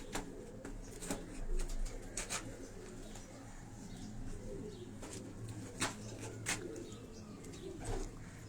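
Pigeons of several breeds on a rooftop loft coo softly and repeatedly, with scattered clicks, rustles and faint wing flutters, moderately distant and with no talk.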